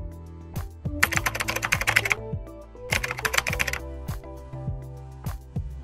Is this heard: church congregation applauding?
no